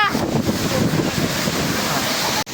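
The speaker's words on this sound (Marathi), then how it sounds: "पाण्याचा फवारा कंटिन्यू उडतो नाही का, कंटिन्यू पाणी" A roaring waterfall at Darekar sends up constant spray, a dense, steady rush of water loud and close throughout, with no break until a brief dip at the very end.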